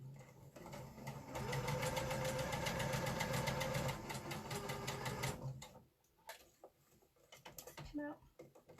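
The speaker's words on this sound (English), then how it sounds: "I'm just going to sew across both of those." A home sewing machine stitches across a tulip quilt block in a fast, steady mechanical rattle for about five seconds, then stops, leaving quieter handling sounds and brief small clicks.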